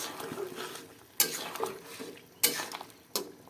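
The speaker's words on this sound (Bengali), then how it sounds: "সবজি সিদ্ধ হয়ে গেছে এবার দিয়ে দেব মাছ ভালো করে মিশিয়ে নেব মাছ" Fish is stirred into a simmering potato and papaya vegetable curry in a pan, with close scraping strokes and three sharp utensil clacks against the metal over a soft bubbling.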